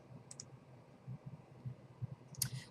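Two brief crisp computer mouse clicks in a quiet room, one near the start and one near the end, with soft low background noise between them.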